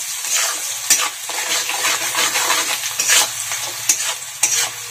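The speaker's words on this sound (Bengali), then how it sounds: "পেঁয়াজগুলো যতক্ষণ পর্যন্ত ব্রাউন না হয় ততক্ষণ পর্যন্ত লাড়তে থাকবো" Onions sizzle steadily in a pan while a spoon stirs them, with periodic scraping strokes cutting through the constant frying hiss; no one speaks.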